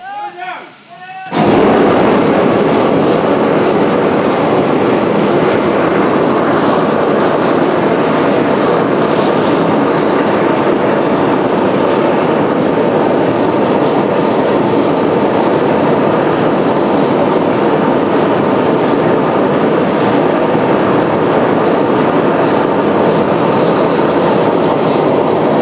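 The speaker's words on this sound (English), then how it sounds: "What we've just seen is what we call the blowing down of the locomotive boilers." Steam locomotive boilers on a heritage railway being blown down, a loud sustained roaring hiss of steam that bursts in abruptly after a brief quiet moment and continues steadily at close range.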